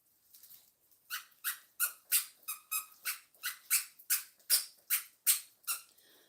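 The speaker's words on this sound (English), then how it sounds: "You hear that squeaky?" A dog chomps a squeaky toy in a rapid, regular series of about fourteen sharp, high squeaks, close and fairly loud with near-silence between bites and no talk.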